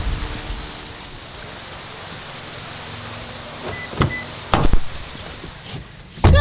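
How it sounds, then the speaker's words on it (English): Heavy rain pours outdoors near the Lobé Falls in Kribi, a steady broadband hiss with a few sharp knocks and thumps, like a car door, toward the end; no one speaks. "It's raining a lot."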